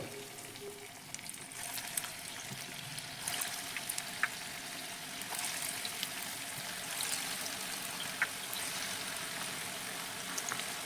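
Pakoras frying in hot oil, a steady bright sizzle with crackling pops as the battered pieces go in, close and continuous, no talking.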